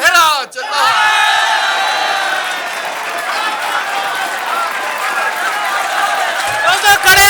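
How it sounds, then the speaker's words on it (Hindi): An audience at a live Hindi-Urdu poetry show breaks into loud, sustained applause with cheers and whoops, a dense close crowd roar that keeps going nearly the whole time. "दोस्तों खड़े हो गए सर, जोरदार तालियों के साथ।"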